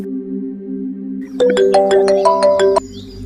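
A phone line hums with a steady two-tone tone, then a bright electronic ringtone plays a quick run of rising beeps for about a second and a half while a conference call is being connected, loud and close, with no talk.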